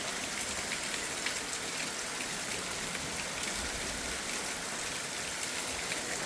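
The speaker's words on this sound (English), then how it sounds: "I hear water coming off my house like it always does up here." Rainwater steadily running and dripping off a house at night, a dense continuous wash of hiss and patter at moderate, even loudness with no talking.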